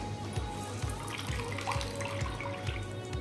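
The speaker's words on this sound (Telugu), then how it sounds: "ఆనపకాయ పిండితే వచ్చిన వాటర్ ఇది" Water pours and trickles as grated bottle gourd is squeezed in the kitchen, a steady liquid splashing with faint repeated low thumps underneath.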